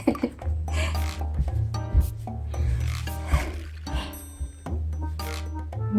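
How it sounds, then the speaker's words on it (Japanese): Material for a DIY car-camping vent cover is cut by hand, producing repeated rough rubbing, rasping strokes in an irregular rhythm, close and fairly loud throughout, with no speech. "ちょっとこれだけ足りなかったので切ります"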